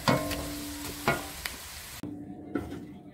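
Wild forest mushrooms sizzle in plenty of butter in a pan, with a steady close crackle broken by a few sharp stirring knocks and scrapes, then quieter frying after a brief pause.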